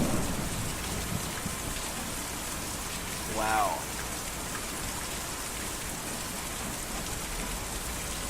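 Rain falling in the video game Kentucky Route Zero, a steady even hiss of rainfall throughout, with a brief spoken exclamation partway through.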